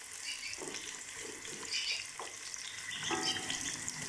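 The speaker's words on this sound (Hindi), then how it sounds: "तो अब मैं प्याज डालती हूँ, पहले फ्राई कर लूँ।" Sliced onions fry in hot oil for beef nihari, giving a steady, close, crackling sizzle that swells slightly near the end, with faint stirring scrapes and no speech throughout.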